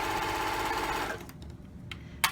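A sewing machine stitches a romper seam over elastic, running loud and steady with a fast whirring drone for about a second, then stopping, followed by a couple of brief mechanical clicks.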